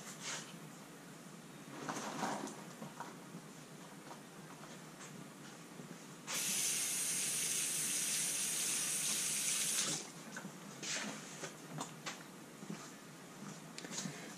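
Running tap water splashes steadily over a silicon carbide sharpening stone as it is rinsed, with quieter dribbles and handling sounds before and after a loud, continuous spray of about four seconds.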